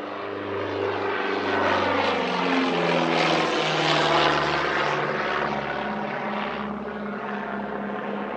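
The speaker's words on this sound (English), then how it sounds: "So they created this, a twin-engined civilian version of the Miles Messenger." A twin-engined Miles Messenger civilian touring aircraft passes at an airshow, its propeller engines droning loud and steady with a shifting, throbbing pitch as it flies by.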